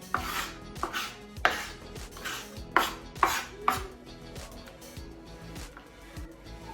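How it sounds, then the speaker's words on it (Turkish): A Pirge Ecco chef's knife slicing food thinly on a cutting board, about a dozen crisp close knocks in an uneven steady rhythm, loud then tapering softer, with no talk. "Bir de ince ince keselim."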